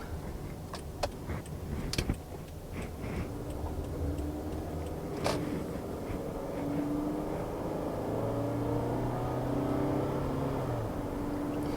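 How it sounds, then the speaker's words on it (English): Toyota Camry with automatic transmission driving on the road, a steady interior drone of engine and tyre noise with occasional ticking and clicks, and a rising engine tone as it accelerates; no talking. "let's hit the road and see how it drives on the road"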